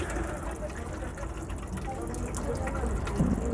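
Tap water gushes steadily onto a spoon under a kitchen faucet, a continuous close splashing flow with a faint knock near the end.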